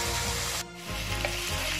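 Steak frying in a pan, a dense, continuous sizzle close up that briefly dips near the middle before the crackling returns at full strength.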